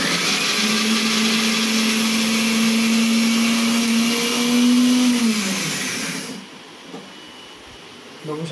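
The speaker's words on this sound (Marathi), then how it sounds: "आता आपण हे मिक्सरमध्ये आता याला थोडं बारीक करून घेणार आहोत।" Kitchen mixer grinding washed soybean chunks, a loud whining motor drone with a rising pitch that cuts off abruptly, followed by quieter rattling and handling sounds.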